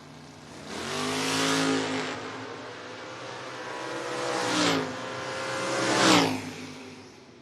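A 1974 Nova and a 1969 Camaro launch in a footbrake drag race, engines swelling loudly and fading as the cars roar off, with a rising whoosh and further engine surges passing by.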